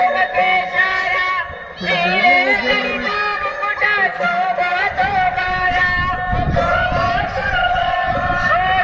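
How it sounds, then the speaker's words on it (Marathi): Children clap and sing an aarti loudly in a group during a Shirdi foot pilgrimage, a dense, continuous chorus of voices with steady clapping mixed into crowd hubbub, close and full throughout. "छोटी छोटी पोरं मस्त टाळ्या वगैरे वाजवतात आहे जोर जोरजोरात आरती बोलतात आहे"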